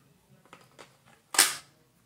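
An FNX-45 pistol slide being fitted back onto the frame: a few soft handling clicks, then one sharp, close metallic clack as the slide snaps into place.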